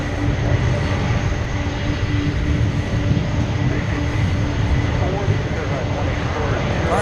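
A Boeing 777 airliner lines up for takeoff at Minneapolis–Saint Paul airport, bound for Chicago, a steady broad engine roar with a low droning hum holding level throughout, with voices talking over it.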